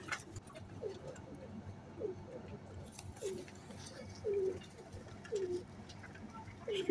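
Pigeons coo in a series of soft, low calls repeating at steady intervals, a loud near coo at the end, over a faint rustling background with no talk.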